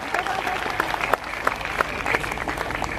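An audience at a police headquarters religious gathering bursts into applause, a lively close crowd clapping with sharp individual claps standing out over the steady patter, sustained for the full length.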